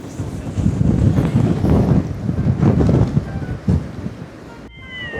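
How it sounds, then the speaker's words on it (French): Strong wind in Iceland, near hot springs, roars steadily across the microphone with heavy low rumbling gusts and buffeting, briefly dropping near the end before surging again. "journée vent aujourd'hui"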